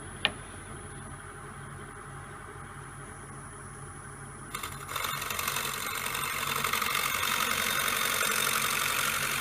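A scraper cuts wood on a spinning woodturning lathe, a steady motor hum joined midway by a brighter, rougher cutting hiss that grows and holds as the tool engages the wood.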